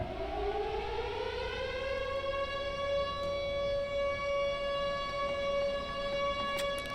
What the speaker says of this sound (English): A siren should work.